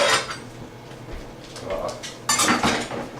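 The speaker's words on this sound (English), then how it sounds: "I do wash a certain amount of dishes as I am preparing food." Dishes, pots and cutlery clatter and clink in a kitchen sink while food is being prepared, with irregular bursts of clanking close by and a louder rattle near the end.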